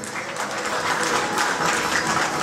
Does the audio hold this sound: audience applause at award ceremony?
yes